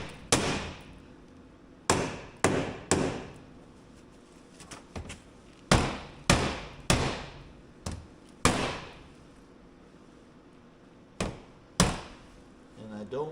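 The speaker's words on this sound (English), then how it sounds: "I'm going to go around with a hammer and give them a good smack." A hammer smacks mud flaps onto a Trail Rider 570, a dozen sharp, loud blows in irregular pairs and singles with short ringing decays, struck close by.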